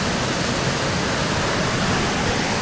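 A river in full flow gives a continuous close rushing hiss of water with no voices.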